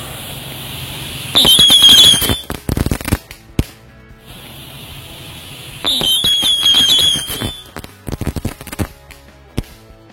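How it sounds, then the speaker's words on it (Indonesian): A pack of ground spinner firecrackers hiss and whistle in two loud bursts at New Year, each followed by a rapid flurry of crackling pops, nearby. "kita nyalain mercon tikusan 1 pak ini"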